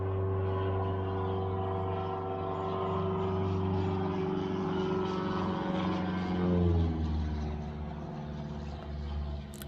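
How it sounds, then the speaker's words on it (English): A steady propeller-like engine drone hums throughout near an airport, swelling slightly near the end as an aircraft seems to pass nearby. "I'm by an airport, so you guys might hear some planes."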